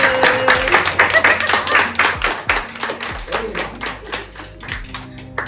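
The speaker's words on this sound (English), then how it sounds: "he deserves a big applause." Applause from an audience at a spiritual retreat in Tiruvannamalai, steady overlapping clapping that rises and falls across the clip, fairly close and dense, with a few voices faintly underneath.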